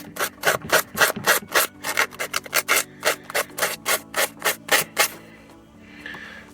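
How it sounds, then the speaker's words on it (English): Sandpaper rubbed back and forth over electrical terminals on a sailboat: about twenty steady, close, raspy strokes in a regular rhythm, then quiet. "to clean up the terminals, just take a bit of sandpaper"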